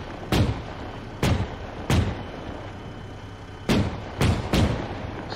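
Armor-piercing rounds fired in the military game Arma 3: six heavy, booming shots at uneven intervals, loud and close, each followed by a short decaying rumble.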